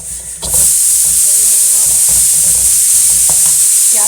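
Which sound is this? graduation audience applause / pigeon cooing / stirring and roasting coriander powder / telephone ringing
stirring and roasting coriander powder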